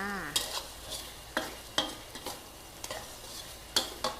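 Pork ribs with red curry paste stir-fried in a pan, with repeated spatula scrapes and stirring strokes over a soft sizzle, close and alone.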